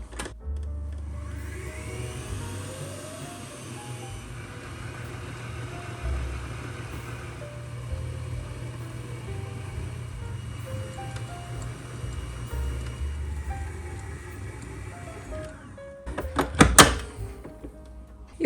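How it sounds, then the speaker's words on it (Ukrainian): Food processor fitted with a dough hook, lid closed, kneading dough for Armenian flatbread with herbs: a steady motor whirr and low churning rumble runs throughout, with a louder burst of knocking near the end. "Насадку використовую гачок, закриваю та вмикаю."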